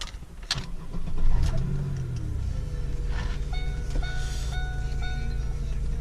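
A Pontiac Grand Prix GT engine cranks and catches, then settles into a steady idle close by, with a series of warning chimes sounding partway through.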